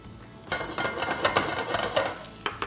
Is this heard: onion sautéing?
yes